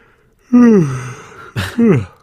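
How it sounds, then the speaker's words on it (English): A long, drawn-out yawn, loud and close, falling in pitch, followed by a short breathy exhale and a second brief yawning groan. "Great yawn"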